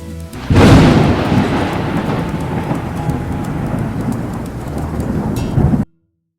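Heavy rain with thunder: a loud thunderclap cracks in early, then a dense, steady roar of pouring rain continues until it cuts off abruptly.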